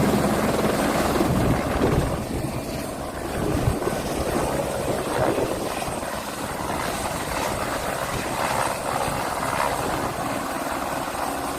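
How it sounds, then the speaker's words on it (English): An aircraft lands on an aircraft carrier in a heavy storm, giving a loud, steady roar of engine and rotor noise blended with wind and rain that fills the whole stretch, with no voices. "These guys pulled off a perfect landing on an aircraft carrier during a crazy storm."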